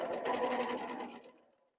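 A sewing machine stitches quilt fabric in a steady, close whirring run for about a second and a half, then winds down and stops, with no talk over it.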